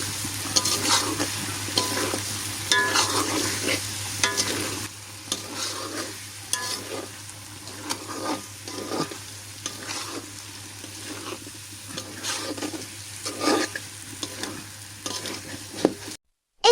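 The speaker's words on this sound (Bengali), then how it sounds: "দেখো এটাকে আমি কিছুক্ষণ কষাবো" Spices and fried potatoes for chicken khichuri sizzle in a pan while a spatula scrapes and stirs in repeated close strokes, loud and steady with no talking.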